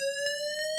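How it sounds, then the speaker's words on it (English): A building fire alarm sounds loud and continuous, a steady electronic tone with bright harmonics, repeatedly pulsing without break. "That's the alarm."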